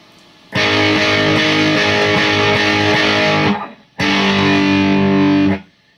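Distorted electric guitar strums a song's chords, two loud sustained strummed chords with a short gap between them, ringing thick and fuzzy before being cut off.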